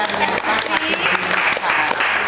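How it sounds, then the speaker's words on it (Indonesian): A small audience at a work-themed coffee morning event claps loudly and briskly in a short burst, with voices talking and cheering over the applause. "tepuk tangannya dong"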